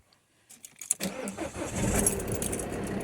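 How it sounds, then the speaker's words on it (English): A Citroen C4 is started after a faint jingle of keys, with a short crank that catches into a steady, moderately loud idle close by. "I'll start the car."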